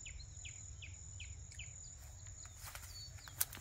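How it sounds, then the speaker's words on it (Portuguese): Seedeater bird singing in the Sertão countryside, a short series of thin repeated high chirps at a steady pace, faint and somewhat distant over low rural background noise. "Tô escutando um caboclinho cantando aí, ó."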